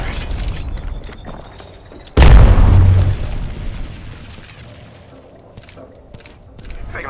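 A frag grenade detonates in a video game shooter: a sudden heavy boom with a rumbling low tail that fades over several seconds, following lighter gunfire and game noise.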